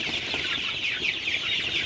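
Sonali super hybrid chickens cluck steadily in a flock, a dense chatter of overlapping calls close by, continuous and fairly loud with no talking.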